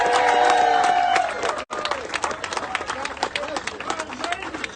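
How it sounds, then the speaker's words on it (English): Crowd at a Georgia Senate campaign rally for Herschel Walker applauding and cheering for Tom Cotton, loud clapping mixed with shouts and whistles, a brief dropout partway, then a busy, fluctuating crowd noise. "let's give a big round of applause for Tom Cotton, who came all the way from Arkansas"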